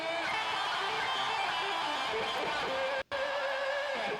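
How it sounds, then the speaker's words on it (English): A Hot Wheels Guitar Stadium car horn from the racing game Forza Horizon 5 plays as a sustained, buzzy, guitar-like tone with shifting pitches, cutting out for a split second before resuming. "the Hot Wheels Guitar Stadium Car Horn, which sounds a bit like this"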